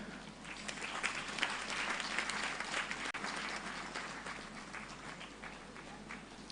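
Steady applause from a crowd, sustained clapping that carries on evenly throughout with no voices over it.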